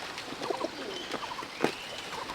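A pigeon coos softly at close range, repeating short, rolling, throaty hoots several times over a quiet background.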